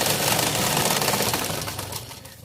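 A sewing machine runs fast, stitching a Patiala pant, making a dense continuous whirr up close that eases slightly toward the end, with no voices.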